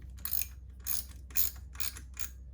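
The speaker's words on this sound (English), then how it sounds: "these 3 bolts are all 10 millimeter. So I'm just going to start loosening one" Ratchet clicking in five short, evenly spaced bursts as 10 mm clutch cover bolts are loosened on a Kawasaki Ninja 300, close and fairly quiet, with no voices.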